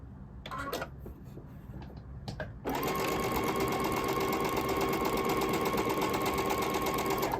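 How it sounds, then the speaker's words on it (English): A sewing machine stitches quilt squares along a diagonal, starting with a few short bursts, then running in a steady fast whirring rhythm close by with no talking. "And again, I am sewing on that diagonal."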